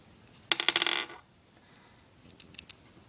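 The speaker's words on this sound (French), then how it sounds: "On fait tomber le pont. Et la roue est enlevée." A small metal tech deck truck clatters down onto a hard surface after its bolts are unscrewed, a quick burst of bright rattling bounces followed by a few fainter ticks, with no voices.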